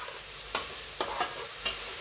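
Grated tomatoes being stirred into a bottle gourd curry over a low flame: a soft continuous sizzle with a few sharp spoon scrapes against the pan at uneven intervals, close up, with no voices.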